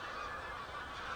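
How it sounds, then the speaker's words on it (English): Geese honk at a distance over a lake at an evening fishing spot, their calls soft and blended into a steady, faint background wash without any talk. "now we have geese as well"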